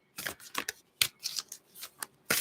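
Tarot cards riffled and shuffled in quick bursts, several crisp flurries with short pauses between, close and clear.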